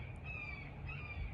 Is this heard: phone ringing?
no